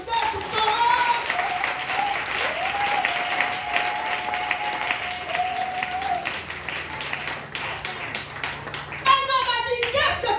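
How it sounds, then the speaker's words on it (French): A church congregation applauds during a French-language sermon, with sustained loud clapping from many hands filling the room for around ten seconds, under a singing or calling voice, ending in a brief burst of cheering. "Est-ce qu'on peut acclamer pour cette parole?"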